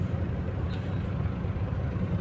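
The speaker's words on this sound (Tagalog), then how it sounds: "Ayan, grabe traffic sa EDSA." Heavy road traffic crawling along EDSA in Manila, heard from inside a Grab ride-hailing car: a steady low rumble of engines and tyres with faint distant horn-like tones, continuous and unbroken.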